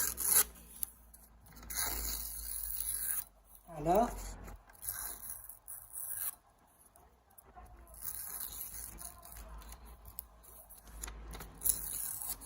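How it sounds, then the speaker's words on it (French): Paper being cut with scissors, soft rasping snips near the mic, with a brief spoken word in between. "on va prendre le papier et on va couper les bords"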